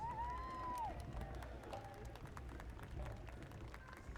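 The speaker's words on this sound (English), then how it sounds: "round of applause, please." Crowd applause and cheering along a street during an Armed Forces Day parade in Torrance, a steady wash of clapping and voices from spectators with a whistle-like tone early on.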